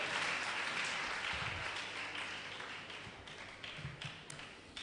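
Audience at a senatorial districts quiz competition in Akwa Ibom clapping together, a dense steady applause that tapers slightly over several seconds, heard from the room without talk.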